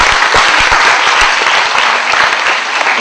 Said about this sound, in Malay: Kita beri tepukan kepada Naib Chancellor